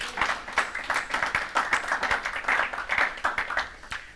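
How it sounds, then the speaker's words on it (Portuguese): A church congregation breaks into applause during a service, a steady run of dense, fairly loud hand claps with a lively, uneven rhythm. "Dê a ele uma salva de palmas"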